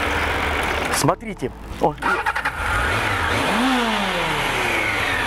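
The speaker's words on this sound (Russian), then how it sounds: "Мы завели мотоцикл." A 750cc Honda CB750 motorcycle engine cranks and catches, sputters, then settles into a running rumble and revs up with rising pitch, close by, with a brief spoken word early on.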